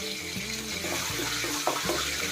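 Curry leaves dropped into hot oil for a village-style eggplant dish sizzle and crackle in a steady, loud hiss that runs throughout, with no talking.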